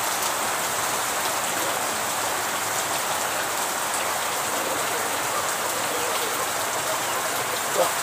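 Rain falls steadily in an even, dense hiss that stays constant throughout, with no clear voices.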